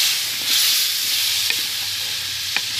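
Sweet pumpkin sautéed in a pan, a loud steady hiss of frying close by with a couple of brief spatula taps as it is stirred.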